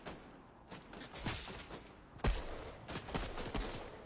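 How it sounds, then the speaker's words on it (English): Rapid video game gunfire crackles in bursts, with a sharp loud shot near the middle and repeated volleys continuing throughout a tense multiplayer match. "I'm getting shot at."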